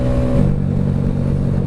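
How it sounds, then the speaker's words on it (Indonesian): A Honda Vario scooter engine revs loud and close while riding a smooth highway in Indramayu, holding a steady droning hum that dips slightly partway through. "Ngetes motor, ngetes mesin."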